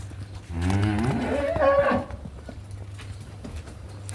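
A cow lets out one long, close moo lasting over a second, then only quiet background remains.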